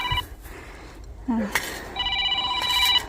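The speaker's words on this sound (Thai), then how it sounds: "รับโทรศัพท์ก่อน" A telephone ringing with an electronic ringtone, a short burst at the start and a steadier multi-tone ring over the last second, indoors and fairly close, with brief rustling noise in between.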